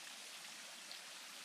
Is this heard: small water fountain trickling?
yes